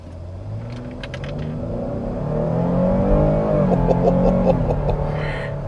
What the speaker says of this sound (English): This thing will haul butt. It sounds good. That's a strong sounding V6.